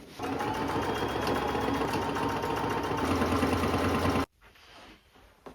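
Sewing machine running continuously and loudly up close while stretched elastic is stitched onto fabric around a rolled hem, then stopping abruptly, leaving a quiet room tone.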